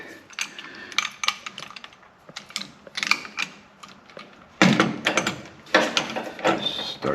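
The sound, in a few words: crimping tool squeezing an air conditioning hose fitting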